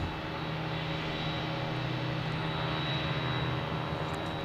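An airliner passing near Boston Logan Airport on an afternoon of plane spotting, heard as a steady, continuous engine roar with a low droning hum that holds evenly throughout, with no talk.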